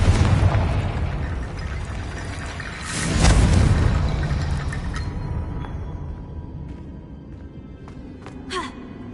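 A Confringo spell in the game Hogwarts Legacy bursts into a deep, heavy explosion partway through, followed by a long rumbling decay and small scattered pops and clicks.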